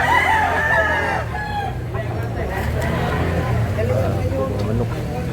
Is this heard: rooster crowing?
yes